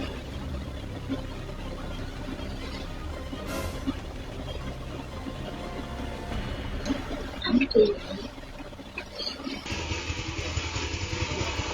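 Motorcycle on a road in Antioquia, Colombia, crushed by a huge falling boulder: a steady engine drone runs throughout, broken near the eighth second by a sudden loud impact burst, followed by a harsher, noisier rumble.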